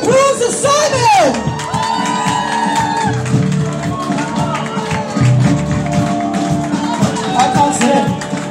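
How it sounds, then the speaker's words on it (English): Cheering, whoops and shouting from a concert crowd for Simon, the rhythm guitarist of a live band, loud and sustained throughout, with music and voices mixed in. "Would you give a huge round of applause to Simon?"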